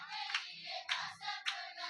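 A church congregation at an Easter service claps hands in time with a song, a steady beat of crisp group claps about every half second over faint background sound.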